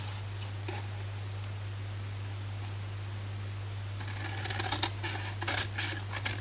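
Scissors cutting a flap on a paper gift box, a short series of crisp snips and paper rustles near the end, following a quiet stretch with a steady low hum.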